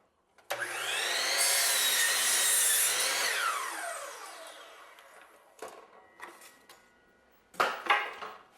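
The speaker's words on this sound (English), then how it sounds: "set the saw at a slight bevel in the other direction and cut straight along the miter until you reach the profile" A handsaw cuts a straight miter through tall hardwood baseboard, a long steady rasping stroke run close and loud, followed by several shorter bursts of sawing.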